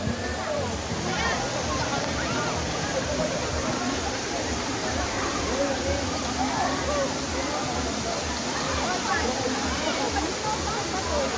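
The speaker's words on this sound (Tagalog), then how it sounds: "Ito nga palang Bulinaw Falls number 1. Ito ang pinakamalapit na waterfalls sa tatlo." Bolinao Falls number 1, a waterfall, roars as a steady broadband wash of falling water throughout, with faint background chatter and voices of a crowd nearby mixed underneath.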